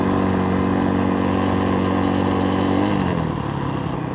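An X-Pro Templar 250 dual sport motorcycle rides along pavement with a loud, steady single-cylinder engine drone close to the rider. The pitch holds and then drops as the bike shifts or eases off near the end.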